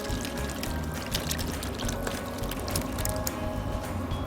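A full can of pineapple chunks with juice is tipped into a bowl with melted butter for a pork rib marinade, a short, close run of splashing, clinking chunks and liquid.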